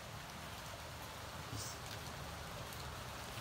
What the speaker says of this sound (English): Oh, it's just a rainy day.